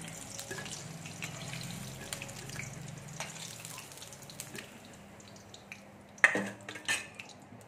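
Egg frying in very hot oil in a pan, a soft steady sizzle and crackle at low volume with a couple of sharper pops and clinks near the end.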